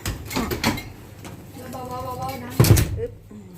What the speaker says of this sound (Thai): เดี๋ยวปิดประตูก่อน